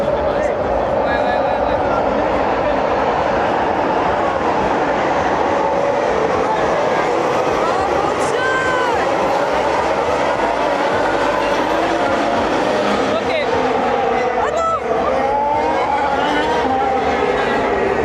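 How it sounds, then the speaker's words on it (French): Formula 1 car engines at the Monaco Grand Prix form a loud, continuous high-pitched roar with rising and falling whines, with crowd noise and voices mixed in. "Oh là là, ils ont démarré les moteurs."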